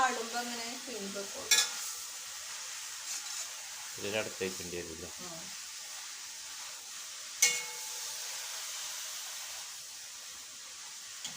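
Steady sizzling of leafy greens frying in a pan, with occasional scraping stirs and a brief bit of speech partway through.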